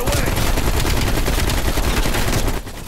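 Rapid automatic gunfire in Call of Duty: Black Ops Cold War, a loud dense continuous burst of shots lasting nearly three seconds before cutting off abruptly.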